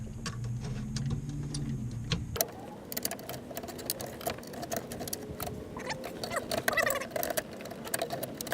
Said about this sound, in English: press down on the clip, and then we're going to take the smaller flathead and try and back it out.